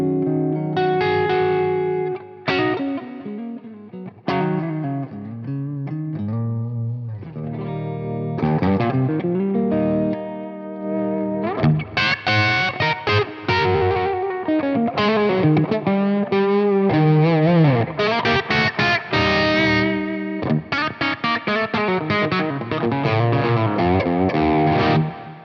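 Electric guitar played through a Fractal FM3 modeler with distortion and modulation effects, a continuous run of driven chords and lead notes with chorus-like shimmer, loud and alone with no talking.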